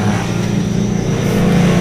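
A Honda Vario scooter's rear transmission turning at low, light revs, a steady loud mechanical drone with a low hum that holds even throughout, with no talk over it.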